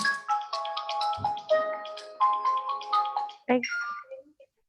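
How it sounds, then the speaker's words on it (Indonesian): A mobile phone ringtone plays a bright, busy melodic tune of quick repeated notes for several seconds, fairly loud and close, during an online class lecture on loops, with no talk over it. "sebentar ya, saya terima telepon dulu ya."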